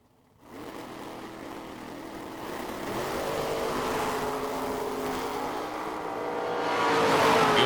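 Two 1969 Camaros launch side by side in a drag race, engines bursting in after a short silence, then a loud, rising roar that swells as the cars accelerate away.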